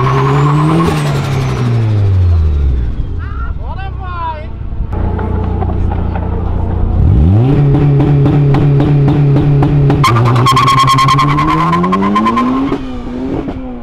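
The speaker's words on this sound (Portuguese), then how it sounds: "E apareceu um Civic SI Turbo." A Honda Civic SI Turbo revs hard and accelerates through rising and falling engine sweeps, with gear changes, tire squeal and a loud close roar throughout a racing elimination, with voices faintly under it.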